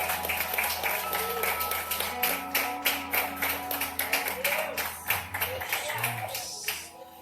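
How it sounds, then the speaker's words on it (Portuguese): A church congregation claps along in praise at a Sunday worship service, sharp rhythmic handclaps repeating steadily over music and a voice speaking. "E as palmas louvem ao Senhor nessa manhã, em nome de Jesus."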